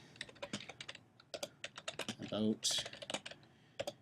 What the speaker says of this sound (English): So I'm going to just go ahead and type the forum name.